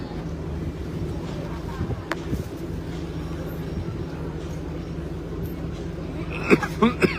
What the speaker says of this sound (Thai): ลมถ้าอยู่บนเวทีก็คงแบบหนาวมาก